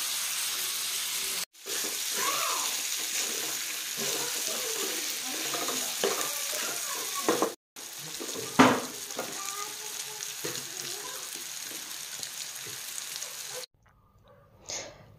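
Pork meat fries in a pan with garlic cloves, a close, steady hiss and crackle of hot fat, interrupted by brief cuts and a sharp utensil clatter partway through, with no speech.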